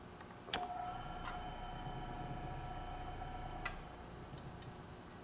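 A vintage Crosley Shelvador fridge's start relay is tried: a sharp click, then a faint steady electrical hum, another click, and a final click as the hum cuts out, all quiet and close.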